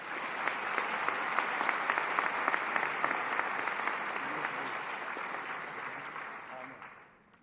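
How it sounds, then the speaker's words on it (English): Steady, sustained applause from a large audience at a mechanical and aerospace engineering commencement for Master of Science graduates, continuous clapping that gradually tapers off at the end. "Let's have a quick round of applause for our Masters of Science graduates."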